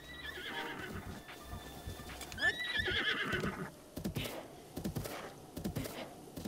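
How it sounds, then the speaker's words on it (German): A horse in the video game Zelda Breath of the Wild whinnies loudly amid clip-clopping hooves, then quick hoof thuds and bumps follow as someone talks intermittently. "da ist ein Pferd."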